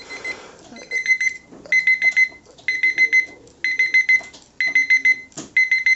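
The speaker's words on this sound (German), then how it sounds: "Nun fängt der Wecker an zu klingeln und wir müssen ihn dreimal stemmen, um ihn auszumachen." A dumbbell alarm clock rings in short bursts of rapid electronic beeps, repeating in a steady pattern with brief gaps, close and clear.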